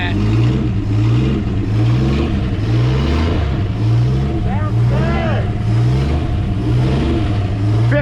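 A 1954 Ford F100 pickup, suspected to be flooded after sitting abandoned for decades, revs loudly and unevenly in a series of throttle bursts, with people talking close by over the engine.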